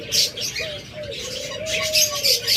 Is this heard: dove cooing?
yes